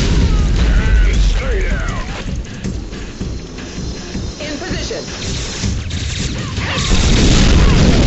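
Vehicle destruction in Unreal Tournament 2004, a loud crashing blast and rumbling metallic wreckage up close, with mechanical clatter and voices speaking over the chaotic battle noise.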